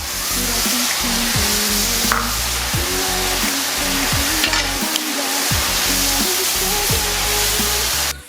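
Shrimp sizzle in a pan with garlic, unsalted butter and a sauce mixture, a loud continuous frying hiss broken by scraping stirs and utensil knocks; no one speaks.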